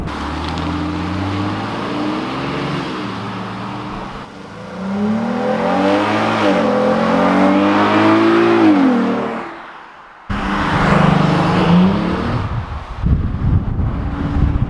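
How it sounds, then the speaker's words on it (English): A 2014 Dodge Durango's Pentastar V6 engine with a K&N intake revs up and down repeatedly with a throaty intake roar, wind noise buffeting the mic, a short drop-out, then more revving. "That's the K&N intake on the 2014 Dodge Durango with the Pentastar V6."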